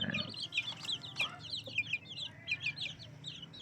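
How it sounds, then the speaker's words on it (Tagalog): Jersey Giant chicks and grown chickens peep and cluck in a busy chorus of rapid high chirps, moderately close, with a low hum of the coop underneath and no talking. "Kasama na sila ng binili natin na mga sisiyo."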